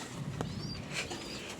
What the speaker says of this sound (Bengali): ভালো কোয়ালিটির একটা রেসার কবুতর এটা